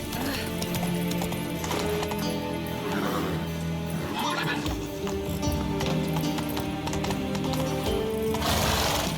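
Horse hooves clip-clop at a gallop in The Witcher 3, a steady rhythmic beat under game music, with an occasional whinny and brief character voices.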